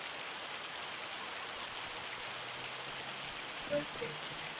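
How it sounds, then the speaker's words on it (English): Steady hiss of rainfall in the farming game Farming Simulator 25, an even wash of falling rain that fills the whole stretch, with a couple of faint low tones and a brief soft blip near the end. "Now we have rain."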